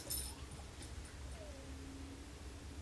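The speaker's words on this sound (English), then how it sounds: "there's the dog again." A dog whimpers softly with a thin, drawn-out whine that rises and fades, faint and alone against quiet indoor room noise.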